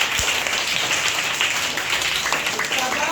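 Pupils in a classroom break into a short burst of hearty clapping, with a voice talking over the applause.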